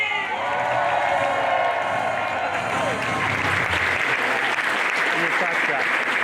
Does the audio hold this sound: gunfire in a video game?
no